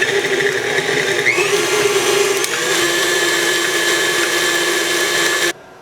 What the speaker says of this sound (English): I'm going to mix all this up before I start adding the powdered sugar.